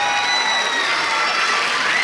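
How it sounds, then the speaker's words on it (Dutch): At a Miss Fashion 2017 finale, the crowd cheers loudly for the pageant winners as they are announced, with high whoops and shouts over a dense wash of clapping in one short, continuous burst. "Mag ik uw applaus voor Anna Kapitein en Laure Goossens?"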